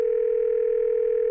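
A cartoon telephone dial tone, steady and unbroken for over a second, then cut off by a short click, alone without talk.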